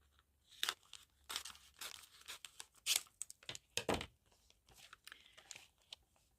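Digital paper being cut by hand with scissors for die-cut crafting, a run of close, crisp snips and crinkling paper handling in irregular bursts, fairly quiet with no talk.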